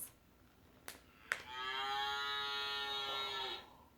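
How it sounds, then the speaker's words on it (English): A cow on a farm gives one long, drawn-out moo lasting about two seconds, clear and fairly close, with short knocks just before it and no talking. "That's what a cow says."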